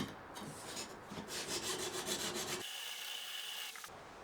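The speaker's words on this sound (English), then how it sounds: "put a steel rule along the side of the 1000 stone and put a micro bevel on the underside, that is the flat side, of the blade" A plane blade's flat underside honed for a micro bevel on a 1000 grit sharpening stone beside a steel rule, a close, steady rasping rub of steel on stone in back-and-forth strokes, alone and fairly quiet.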